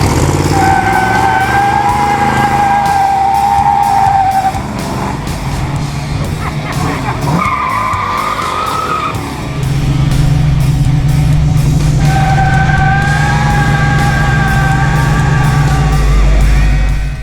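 A car does a burnout in a makeshift water-bucket burnout box on the Hot Rod Power Tour, its engine roaring and revving loudly with a dip midway before surging again, close and dominant throughout.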